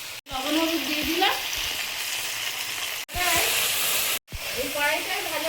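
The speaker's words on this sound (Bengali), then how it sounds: "এই কড়াইটায় ভাজাভুজি করলে তো খুব কম তেলে হয়ে যায়।" Food fries in an iron wok with little oil after salt and turmeric go in, a loud, steady sizzle that runs almost without break, with a voice speaking over it.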